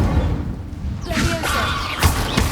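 Fire spell cast in the video game Hogwarts Legacy: a burst of whooshing, crackling flame with a couple of sharp thuds, close and loud, with no talking over it.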